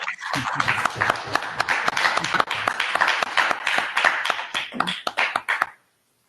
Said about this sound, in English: I just would like everybody to give Tom a wonderful round of applause